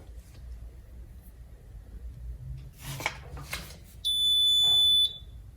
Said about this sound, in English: Press OK to silence beeping